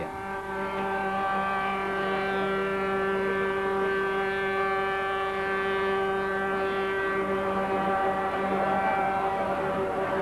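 Ship horns and sirens blare at the launch of the Monterrey, the last vessel of a Mexican order, at the La Ciotat shipyard. The blended tones sound loud and sustained, holding steady for the whole stretch.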